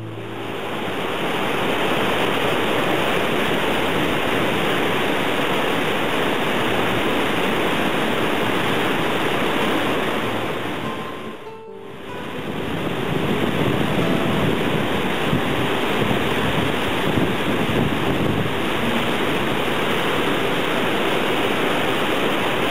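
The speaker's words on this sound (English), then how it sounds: "The flow of the water and the sound of it going over the falls is almost deafening" A waterfall roars with a dense, steady rush of falling water, loud and continuous, with only a brief dip in the middle before the full roar returns.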